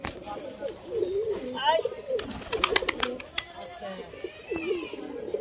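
Domestic pigeons coo repeatedly in a flock being fed maize and rice, with soft rolling calls rising over outdoor background noise and a voice talking nearby.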